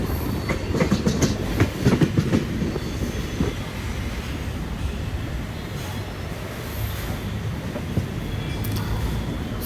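Moving passenger train, the Okha–Ernakulam 16337, heard from on board as a loud steady rumble with rhythmic clickety-clack of wheels over rail joints, heavier at first then settling into a continuous roar.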